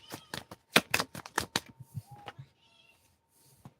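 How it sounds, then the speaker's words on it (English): A cat meows a few times during a tarot card reading, short tonal calls mixed with card shuffling and handling noises, fairly close and moderately loud, with quieter pauses near the end. "Can you stop meowing?"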